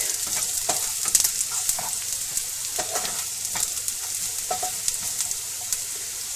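Ingredients for a Mangalorean chicken curry with garlic roast in a hot pan, giving a steady sizzling crackle with intermittent scraping stirs, close and fairly quiet, with no voices.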